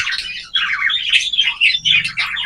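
A cockatiel hen gives a string of rapid, high chirping calls close by, loud and continuous with short breaks, with no talk over it.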